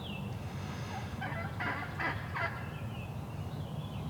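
A series of quick, raspy yelps from a wild turkey hen sounds a little way off over a constant low rumble of background noise.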